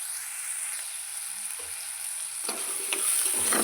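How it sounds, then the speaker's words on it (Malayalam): Onions sautéing in a pan with salt added, stirred steadily for a prawn curry; a continuous close sizzle with scraping stir strokes growing louder toward the end, no voices. "നന്നായി ഇളക്കി വഴറ്റിയെടുക്കാം."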